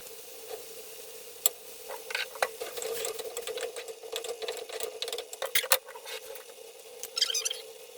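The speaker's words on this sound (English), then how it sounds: "I'm going to add soy sauce." Mushrooms frying in a pan as soy sauce goes in, giving an irregular crackling sizzle with scattered pops and spits over a steady faint hum, no talking.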